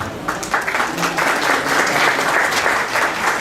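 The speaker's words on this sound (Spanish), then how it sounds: "esos aplausos que ahorita son un poco tibios" Steady, dense applause from a panel-event audience in a corporate risk-management forum, continuous and moderately loud throughout without pause.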